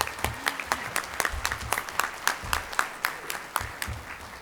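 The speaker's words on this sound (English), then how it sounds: "Give them a round of applause." A room of chamber of commerce members at a morning breakfast event gives a round of applause for new members, with moderate, steady clapping and a few sharper individual claps standing out.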